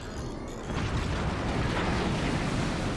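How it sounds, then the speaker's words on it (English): In the video game Forts, a cannon shot strikes a base with a dense, roaring burst that swells after a moment and then holds as a sustained rumbling wash of noise, with no speech. "Cannon shot coming across"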